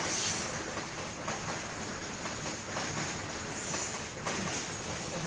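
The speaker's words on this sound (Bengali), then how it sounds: "আমার পাশ দিয়ে ট্রেন যাওয়ার জন্য অনেক শব্দ, অনেক নয়েজ হয়েছিল" A train rolls past close by. A broad, steady rumble and roar fills the whole stretch at moderate level, with no talk over it.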